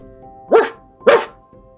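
Two loud, close barks about half a second apart, sounding like a child imitating a dog during a school drama play for young classes.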